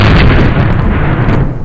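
Loud, close, booming blast from a 10mm M&P 2.0 pistol with full-power non-compensated rounds, a single saturated report with a broad rumbling tail filling the clip.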